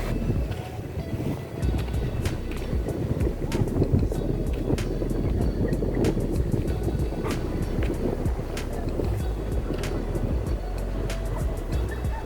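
A boat at the shore on Atauro island, Timor-Leste, while people board: a constant low motor rumble and surf wash with scattered sharp knocks and clatters throughout, outdoors and fairly busy.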